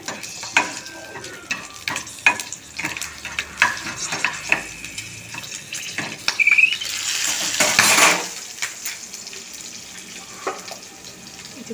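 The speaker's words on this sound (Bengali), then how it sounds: "আমার তেল গরম হয়ে গেছে, আমি সবগুলো একবারে দিয়ে দিলাম।" Ingredients dropped together into hot oil and stirred, giving loud crackling sizzle and repeated spoon scrapes, with a brief surge of hissing spatter near the middle before it settles to quieter frying.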